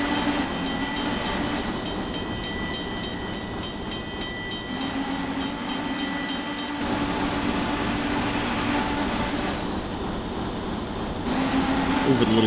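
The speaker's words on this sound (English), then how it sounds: "we get a fun little view from inside of a car waiting at the line, watching as the train rolls by" A train rolling past a road crossing, heard from inside a car waiting at the line, a steady rumbling roar with crossing bell dings in the first half, continuous and fairly close.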